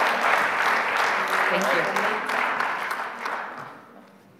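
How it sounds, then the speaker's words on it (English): A conference audience applauds a finance panel, a burst of crowd clapping that fades over a few seconds while a voice speaks briefly over it. "And again, a big applause"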